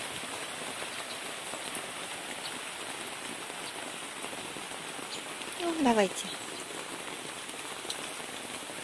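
Steady rain pattering on a surface, heard from inside a garden gazebo, a constant hiss of drops, with a brief spoken voice partway through.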